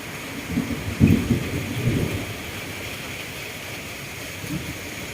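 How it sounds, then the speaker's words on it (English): Steady rain pours while low rumbles of thunder roll through in the first seconds, then fade into a continuous hiss of rainfall. "Raining."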